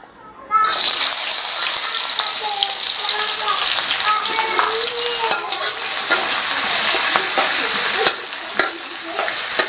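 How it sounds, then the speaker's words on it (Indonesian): Garlic, orange bird's-eye chilies and curly red chilies stir-fried in a hot pan as a base for spicy beef intestines, a loud continuous sizzle with scraping stirs, while someone talks over it. "Aku memakai bawang putih, cabai rawit oranye, dan cabai merah keriting. Kita tumis ya."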